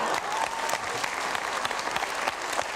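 Dense, steady audience applause fills a comedy show hall, even and sustained from start to finish.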